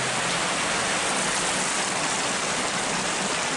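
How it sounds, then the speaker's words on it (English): A stream of fresh water rushes through a tunnel beneath the Leeds Liverpool Canal, a loud, constant broadband roar with no pauses or voices. "And this stream of fresh water"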